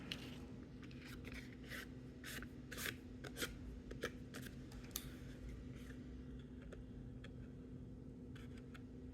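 A Cinch stack cutter trims along a paper edge, giving a series of faint, quick rasping scrapes in an uneven rhythm over a low steady hum, thinning out toward the end.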